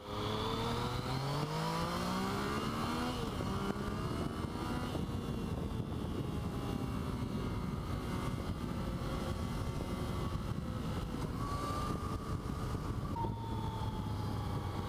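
A Yamaha MT-09 motorcycle engine drones steadily while its whistling whine climbs in pitch, drops back and climbs again as gears change, loud and continuous throughout.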